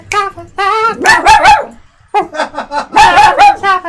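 A dog gives loud, close barks and high, drawn-out yipping, howl-like cries in two bursts with a short pause between them.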